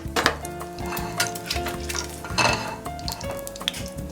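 Food sizzles and crackles in a hot oil bath in a wok, a busy close-up frying hiss with scattered utensil clinks and scrapes.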